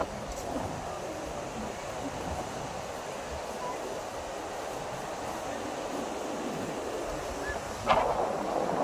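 Wind blows steadily across a beach at sunset, a continuous rushing rumble mixed with distant surf, with a brief sharp knock near the end.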